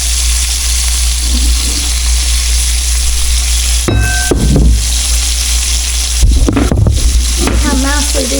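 Cubed steak browns in a little oil in a pan with a steady loud sizzle, broken by a few stirring and scraping moments in the second half.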